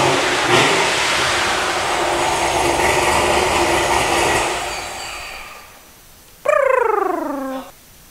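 A Corvette fitted with a Procharger supercharger from an A&A kit runs as a dense, loud, steady roar for several seconds, fades, then gives a short rising-and-falling whistling whine that drops away.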